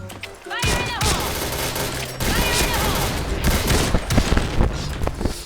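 Rapid bursts of automatic gunfire in a first-person shooter video game, loud and close, firing in sustained rattling strings with a brief pause partway through and no talk over it.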